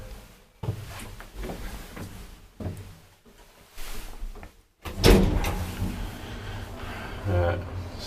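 The wooden doors of an old ValmetSchlieren traction elevator, built around 1973 with a leather-lined cab, slide and thump in bursts, the loudest clunk midway, with people talking through the clip.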